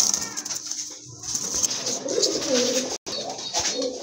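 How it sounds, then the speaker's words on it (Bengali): A pair of racer pigeons coos in soft, repeated rounds, close and steady, with faint rustling and a brief wing-like flutter. "মাশাআল্লাহ, আরেক জোড়া রেসার কবুতর"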